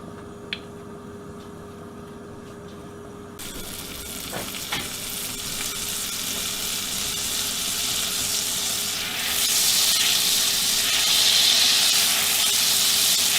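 Mushrooms and onion frying in a pan for an old-fashioned Southern Salisbury steak gravy with Worcestershire sauce, a steady close sizzle that swells louder partway through, with no talking.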